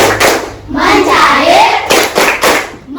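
Primary school class of fourth graders clapping hands together in a rhythmic classroom chant, loud and close, the claps irregular and overlapping with children's voices throughout.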